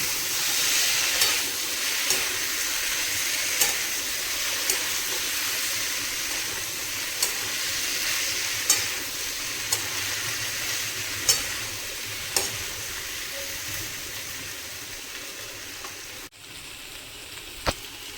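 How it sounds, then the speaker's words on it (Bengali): Potatoes fried with poppy seed paste sizzle steadily in a pan, with regular spatula scrapes and taps every second or two as they are stirred, close up and without speech. "পোস্ত বাটাটাকে ভালো করে ভাজা আলুগুলোর সাথে মিশিয়ে নেব"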